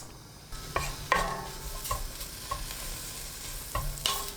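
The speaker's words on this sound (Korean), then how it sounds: "냄비에 들기름 2큰술, 황태채 넣고 센 불로 1분 볶습니다" Dried pollack stir-frying in perilla oil in a pot over high heat with a soft sizzle, punctuated by repeated scraping and clinks of a utensil against the pot at an irregular rhythm.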